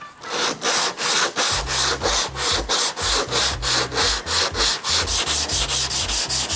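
Bondo body filler is block sanded on a Mitsubishi Lancer Evolution X. Loud, close, rhythmic back-and-forth rasping strokes repeat steadily about three times a second throughout, with no talking.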